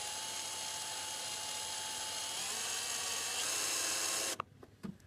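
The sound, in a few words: drill with screw extractor bit removing stripped door hinge screw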